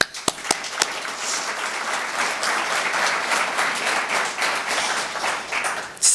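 A few sharp claps lead into steady applause from a group at a student leadership awards ceremony, sustained for several seconds before tapering off.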